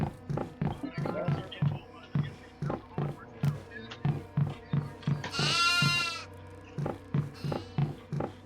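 Sheep bleating in a video game, a drawn-out bleat rising over a steady run of rhythmic game sounds and footsteps, with faint talk in the background.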